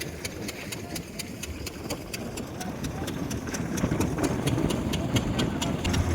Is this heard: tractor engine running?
yes